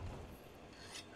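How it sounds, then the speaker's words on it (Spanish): A hammer being sharpened in Monster Hunter: World, a soft gritty rasping scrape of whetstone on metal that runs continuously and quietly, with a brighter hiss near the end. "Tengo que afilar mi martillo por alguna razón,"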